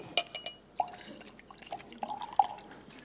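Water from a water bottle at an onstage talk trickles and drips in short, uneven splashes with a glassy clink or two, close and fairly quiet, with no one speaking.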